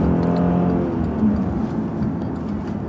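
A Cadillac CTS-V's engine pulls hard through first gear toward the 1-2 shift, a steady, loud, low drone with rising harmonics, heard from inside the car with no talk.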